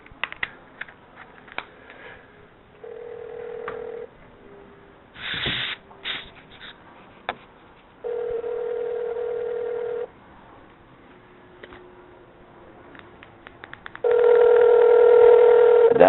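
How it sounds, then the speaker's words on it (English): A telephone rings in a radio studio, with several separated electronic ring tones of about two seconds each and a louder final ring. Small clicks and faint background noise fill the gaps between rings. "we've got the phone ringing"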